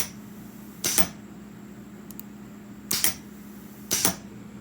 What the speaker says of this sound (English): That's me clicking this button.